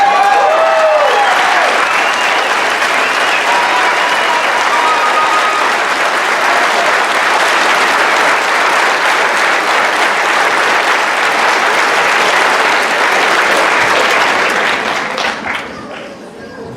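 Sustained, loud applause from a town hall audience at a county school board meeting on transgender bathrooms, steady dense clapping with a few cheers throughout, tapering slightly at the very end.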